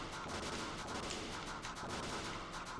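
Rapid alternating shots in the shoot 'em up video game Galmedes form a dense, steady stream of quick firing bursts over continuous game noise.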